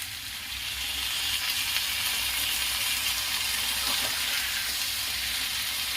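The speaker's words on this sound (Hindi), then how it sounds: "बहुत थोड़ा सा पानी देके ढक दूंगी, 2 चम्मच भर पानी" Roasted green peas hiss and sizzle steadily in a hot pan after a couple of spoonfuls of water go in, a loud, even frying sound with no talking.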